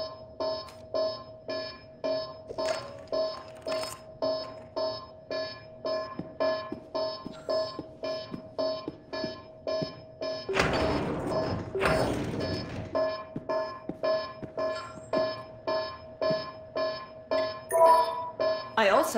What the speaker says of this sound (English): You triggered an alarm.